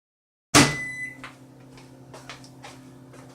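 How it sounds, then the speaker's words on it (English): A sharp clack opens the clip, then a steady low hum with faint rattles carries on, like a microwave oven running. "30 seconds in the microwave"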